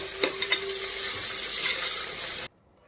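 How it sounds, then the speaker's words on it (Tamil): Fennel seeds, crushed shallots and ginger-garlic paste fry and sizzle in hot oil for jackfruit biryani, a steady bright hiss with a few clinks of a stirring spoon near the start, cutting off abruptly into silence. "சோம்பு, சின்ன வெங்காயம் அடித்தது, இஞ்சி பூண்டு பேஸ்ட்டு கிளறி கொடுத்துக்கலாம்."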